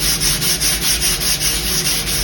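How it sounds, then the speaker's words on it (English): Steady close rubbing of 220-grit sandpaper over the repaired fin box area of a surfboard, a loud continuous rasp pulsing in quick even strokes, no voices. "We're going to sand it with a little bit of 220."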